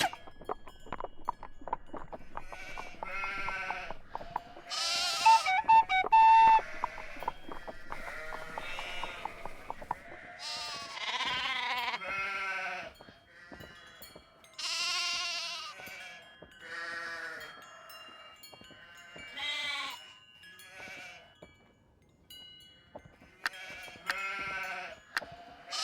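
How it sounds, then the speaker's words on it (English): Sheep bleat repeatedly in a Nancy Drew mystery game set at Castle Malloy, a run of wavering, nasal calls spaced across the clip at close range, with no talking. "Is that a sheep or a show dog?"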